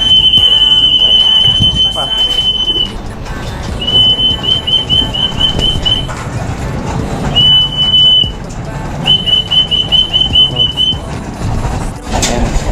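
A high, steady whistle calls pigeons down to feed at a rooftop loft, sounding in two pairs of long blasts, some trilled, over someone talking throughout.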